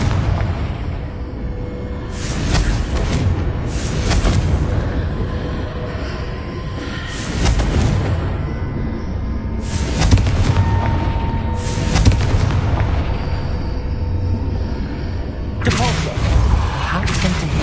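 Repeated Confringo fire-spell blasts in Hogwarts Legacy come as loud booming explosions about every two seconds, each one with a rumbling tail, over continuous game background noise.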